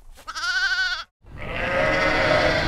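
A sheep on the Hulunbuir grassland lets out one close, wavering bleat, then after a brief gap a broad chorus of flock bleats and rustle swells and carries on.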